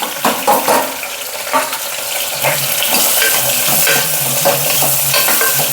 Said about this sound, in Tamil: அதையும் நல்லா வதக்கிக்கலாம் கொஞ்சம் உப்பையும் போட்டு விட்டுடலாம்